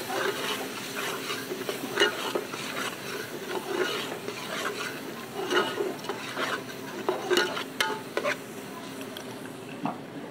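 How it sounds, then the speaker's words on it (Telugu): Dindigul special masala fried and stirred in a pan for Dindigul thalapakatti mutton biryani, a steady sizzle with continuous scraping and rubbing of the spoon, close, with occasional sharp clinks against the pan. "ముందుగా రెడీ చేసి పెట్టుకున్న దిండిగల్ స్పెషల్ మసాలా వేసుకుంటున్నాను. దీన్ని కూడా చక్కగా వేపుకోవాలి."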